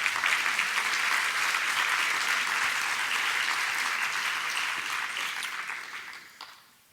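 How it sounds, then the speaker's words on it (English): A festival audience at an opening-night talk breaks into sustained applause, a thick, even wash of clapping that holds for several seconds before fading away at the end. "thank you for the applause"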